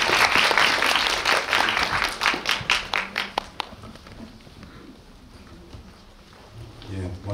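An audience at a film festival screening greets a short film's director and actors with applause, a burst of clapping that thins into a few scattered claps and fades to quiet room noise.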